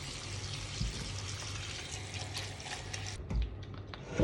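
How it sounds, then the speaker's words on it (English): Rinse water pours and sloshes off soaking tapioca in a steady, close, continuous wash of liquid noise, ending with a brief splash. "rinse out the water, do away with the water"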